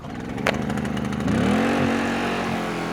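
A Blackridge 1700W inverter generator's small engine runs steadily at a low idle, then revs up and settles at a higher constant speed, with a brief click near the start, close and moderately loud.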